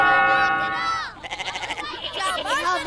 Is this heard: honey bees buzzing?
no